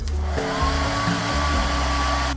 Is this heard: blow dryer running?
yes